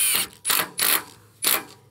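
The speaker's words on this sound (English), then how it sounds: "What I'm gonna do is go ahead and get my first set of screws in." Screws are driven into a wooden gate with a power driver in four short, close bursts of whirring and ratcheting, separated by brief pauses and heard without talk.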